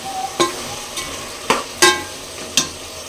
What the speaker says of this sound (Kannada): ಈಗ ಟೊಮೊಟೊ ಎಲ್ಲ ಚೆನ್ನಾಗಿ ಫ್ರೈ ಆಗಿದೆ